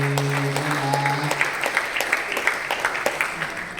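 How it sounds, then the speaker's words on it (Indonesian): Audience applause in a limited-capacity meeting room during a presentation; steady, fairly loud clapping from a modest group, with a brief tonal hum at the start and some voices in the background. "Tepuk tangan kali."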